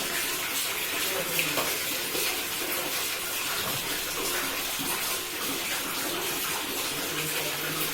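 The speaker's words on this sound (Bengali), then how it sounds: "এবার স্নান করো মগ দিয়ে জল ঢেলে দাও।" Water pouring and splashing continuously during a child's bath, with a steady broadband rush and faint voices in the background.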